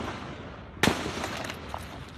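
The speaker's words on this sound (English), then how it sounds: "Gunshots ring out, 50 or more, as terrified onlookers duck for cover." A single sharp gunshot crack rings out at a distance over faint background noise, followed by a softer echo, from a shooting at a charity baseball practice.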